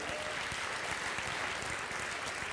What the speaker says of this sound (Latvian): Aplausi kurzemniekiem!